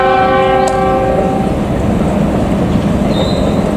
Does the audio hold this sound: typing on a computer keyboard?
no